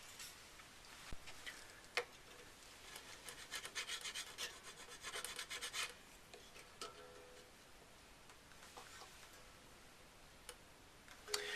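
Small file rasping a string slot into a guitar nut for the B string, fine scratchy strokes repeating steadily and close, with occasional light ticks and pauses, no talking.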